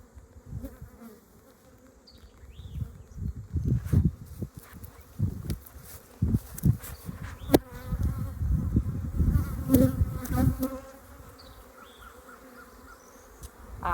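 Honey bees buzzing around their hive, a close, fluctuating drone of many wings that swells and fades with individual bees passing near, with faint rustling in between and no voices.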